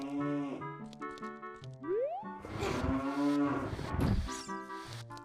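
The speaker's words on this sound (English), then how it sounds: "These cows and their cow noises." Cows moo in The Legend of Zelda: Ocarina of Time video game: a few drawn-out, bending moos, close and clear, over a bouncy game music loop with a twangy sliding note.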